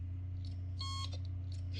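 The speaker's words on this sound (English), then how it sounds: "I never remember it used to beep." A dropped hard drive gives a single faint electronic beep of about a quarter second over a steady low hum, with a few soft clicks nearby and no talking.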